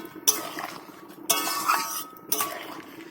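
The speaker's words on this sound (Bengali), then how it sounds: "মাছগুলো দিয়ে দিচ্ছি" Fish pieces dropped one after another into a simmering potato and cauliflower curry, giving three soft splashing thuds with light clinks of a pot and utensil between them.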